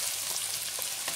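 Pieces of onion fry and brown in a pan with a steady, close, continuous hissing sizzle, alone and without talk.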